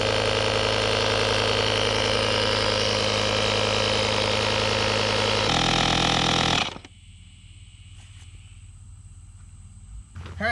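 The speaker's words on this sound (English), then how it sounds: "We ran for 35 minutes on this Tacklife pump and we didn't make it to 80 psi." A TACKLIFE portable tire inflator air compressor drones loudly and steadily with a buzzing motor rattle, then cuts off abruptly, leaving near silence.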